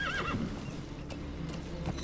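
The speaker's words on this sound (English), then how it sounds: "I'll just get my horse and get out of here." A horse in the Metal Gear Solid V: The Phantom Pain video game gives a short, clear whinny at the start, followed by soft clip-clopping hooves and game ambience, with no talking.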